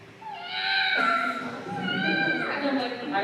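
A voice imitates a hungry cat meowing frantically for kibbles in the kitchen, with several drawn-out, wavering meows close and loud, sliding into one another with barely a pause.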